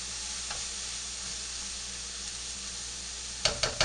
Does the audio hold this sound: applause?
no